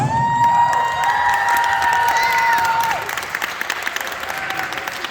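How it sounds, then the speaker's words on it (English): Applause and some cheering fill a high school band banquet awards ceremony, steady and fairly loud, with a sustained musical tone ringing over the crowd before the clapping thins out. "But once again, another round of applause."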